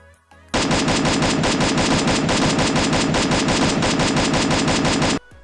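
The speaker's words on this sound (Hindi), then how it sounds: "अब मैं कंटिन्यूस शॉट देने वाला हूँ 5 सेकंड तक" A video game gun fires continuously for about five seconds: a loud, dense, unbroken stream of rapid shots that starts abruptly and cuts off just as sharply, with no voices over it.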